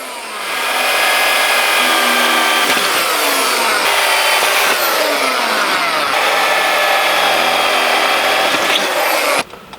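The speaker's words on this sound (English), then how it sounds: "you need to remove the top caps of the ladder by drilling into pop rivets" A power drill bores into pop rivets on the top caps of a rooftop tent ladder, whining loudly and steadily with pitch dips as the bit bites, then stops abruptly near the end.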